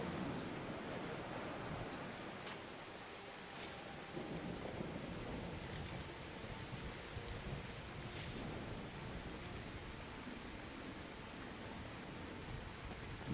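Steady rain pours throughout a Skyrim game scene, with low rumbling thunder rolling under it and a few sharper cracks, all quiet and distant with no voices.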